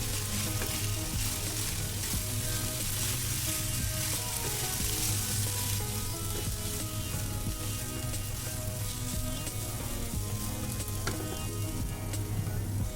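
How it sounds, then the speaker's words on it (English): Crispy pan-fried okra being tossed with stir-fried vegetables in a hot pan for a Chinese-style bhindi fry, a loud steady sizzle and hiss that runs unbroken and close, with faint stirring under it and no voices. "Mix the okras well along with our spicy and flavorful stir-fried veggies."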